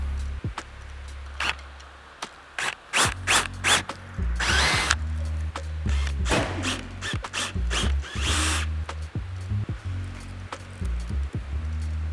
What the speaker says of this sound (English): And grab your drill.